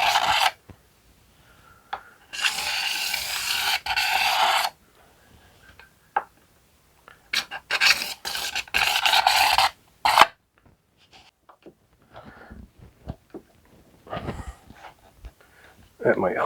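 A boat hull is hand-sanded with 220 grit sandpaper in short rasping bursts of strokes separated by pauses, close and fairly loud, with a voice talking between bursts.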